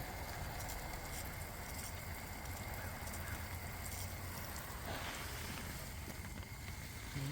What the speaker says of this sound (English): Water these strawberries.